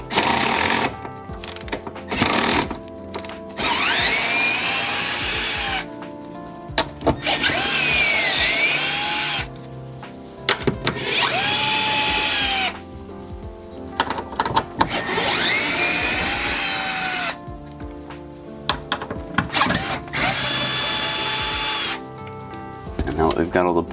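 A power drill spins out 10mm bolts around an OEM subwoofer in a Lexus LX, loud whirring bursts that start and stop several times, rising and falling in pitch, with someone talking in the pauses between them.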